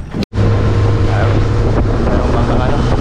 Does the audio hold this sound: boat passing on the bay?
yes